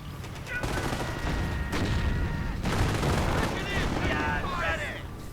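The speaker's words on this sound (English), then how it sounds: "Troops getting suppressed by the machine guns mounted on the Panzers." Tank-mounted machine guns on Panzers fire during a World War II strategy game battle, a dense, continuous clatter of gunfire and distant booms under a chaotic battlefield mix, with voices heard at times.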